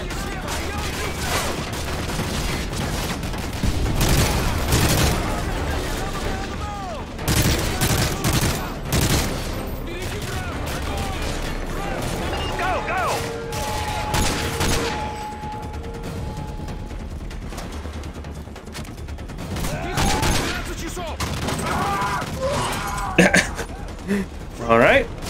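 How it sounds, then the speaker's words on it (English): Bursts of automatic gunfire and scattered shots crackle in a Modern Warfare 3 firefight, loud at times and thinning out in between, with people talking over the battle. "Who the hell is shooting at me?"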